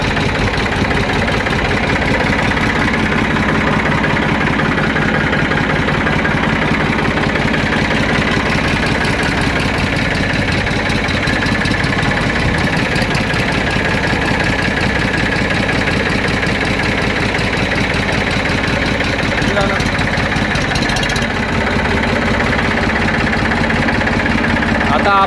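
A tractor engine idles and runs steadily, a loud, close, continuous rumble with an even knocking pulse throughout, no pauses.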